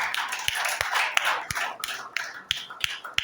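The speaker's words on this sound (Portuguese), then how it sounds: "palmas para Jesus" A church congregation claps for Jesus during a worship service, sharp rhythmic claps about three per second ringing out over a dense, steady wash of crowd noise.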